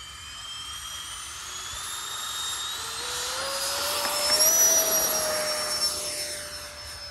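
A Freewing A-10 Thunderbolt II radio-controlled jet with twin 80mm ducted fans takes off, its high whine rising in pitch and swelling louder as it passes, then easing slightly as it climbs away.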